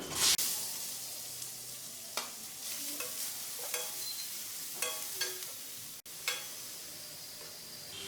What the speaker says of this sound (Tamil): முதல்ல முட்டைக்கோஸை போட்டு வதக்குறேன்